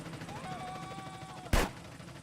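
A single sharp gunshot for a headshot in GTA Trilogy Definitive Edition, a loud sudden crack with a short decaying tail, cutting through quieter game music and ambience.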